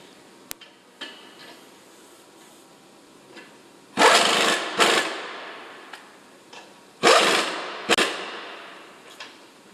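Metal wrench working loose the lug nuts during a tire change, giving a few sharp clanks and ratcheting bursts spaced apart over faint background noise, with no talking.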